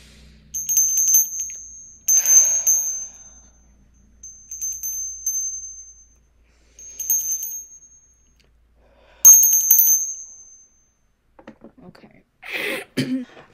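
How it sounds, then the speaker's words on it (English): A bell used to cleanse energy rings several times in spaced strikes, each a clear sustained high tone fading out, followed near the end by a brief throat clearing and voice. "If you do not want to hear the sound of the bell"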